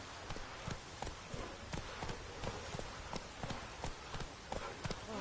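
Roach the horse galloping in The Witcher 3, hooves beating a fast steady clip-clop rhythm at close range, fairly faint, with a voice speaking briefly over the running.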